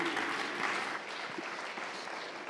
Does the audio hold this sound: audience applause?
yes